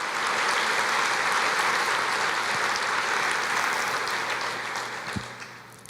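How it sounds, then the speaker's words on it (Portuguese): A church congregation applauds during a sermon, a broad, steady roar of many hands clapping that holds evenly, then slowly thins and fades toward the end, with a soft thump or two. "pode aplaudir o Senhor"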